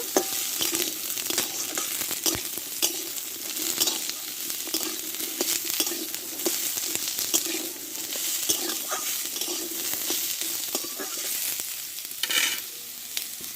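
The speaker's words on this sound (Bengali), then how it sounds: "লাল কুমড়োটা দিয়ে দেবো মশলাটা একটু ভালো করে আমি কষে নেব" Red pumpkin and spices being sautéed in white oil in a pan, a dense, continuous crackling sizzle with frequent scraping and clicking of a stirring spoon throughout.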